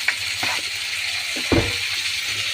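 Onion and garlic go into hot frying oil for a Bengali banana-flower and prawn dish, giving a soft steady sizzle with a few brief clatters and stirring scrapes, quiet and close, no talking.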